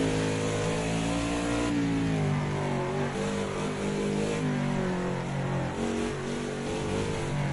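A modern NASCAR stock car engine in a racing video game lapping the Nordschleife, holding a loud, steady high-revving drone with rising and falling harmonic pitch as the throttle shifts, alone with no talk.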